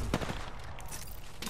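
Gunfire in a first-person shooter video game crackles in rapid dense bursts, loud and continuous across a short moment.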